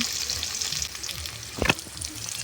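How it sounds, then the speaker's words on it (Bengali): Onions sizzle steadily as they fry in a pan for chicken kofta, with soft stirring scrapes and one sharper clatter of the spoon midway, close and alone. "এবার পেঁয়াজগুলোকে ভালো করে নেড়ে চেড়ে ভাজবো।"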